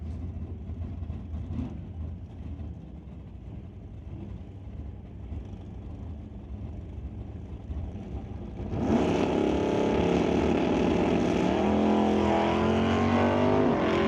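Race cars including a Chevy Monte Carlo launch down a drag strip at a bracket race, a low engine rumble swelling into a loud, sustained roar of revving engines.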